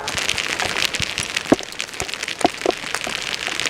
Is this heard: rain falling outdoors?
yes